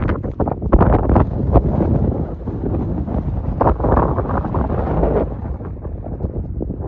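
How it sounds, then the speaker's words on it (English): Strong wind buffets the microphone in continuous gusty roars, loud and close, with no voices. "Quite windy over here."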